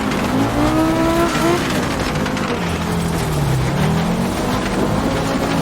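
An Audi Group B rally car's engine roars close and loud, its pitch sweeping up and falling away as it shifts down through the gears, with a steady rushing hiss of road and tyre noise beneath.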